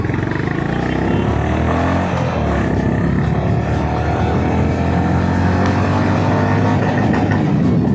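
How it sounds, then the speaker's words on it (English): A loud, rumbling Honda H'ness CB350 motorcycle exhaust drones continuously, close by and deep, with a steady low growl. "I really like the exhaust sound of this motorcycle"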